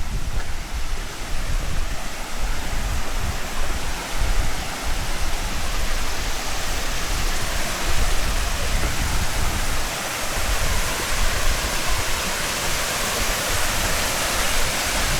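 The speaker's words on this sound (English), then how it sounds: "this will get you nice and close to that waterfall" Steady roar of a waterfall near Easdale Tarn in the Lake District, a dense continuous rush of water filling the scene without pause.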